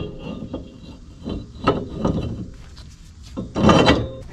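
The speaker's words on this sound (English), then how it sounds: "Next we'll put on the Z brake rotor." A Nissan Z brake rotor slides onto an S chassis hub with scraping metal rubs and light knocks in uneven bursts, ending in a louder clunk as it seats, with no talking.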